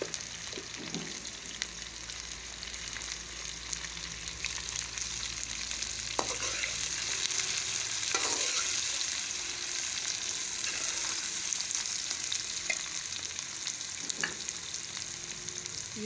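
Chopped onions frying in oil with bitter gourd (karela) and browned green chillies, a steady hiss of sizzling broken by occasional scraping clicks of a spoon stirring the pan, close and continuous.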